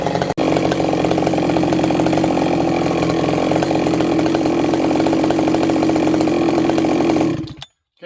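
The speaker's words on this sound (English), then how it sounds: "I've let the saw warm up" A chainsaw fitted with a new cylinder idles and revs while warming up, a loud, continuous buzzing engine drone held steady for about seven seconds before cutting off abruptly.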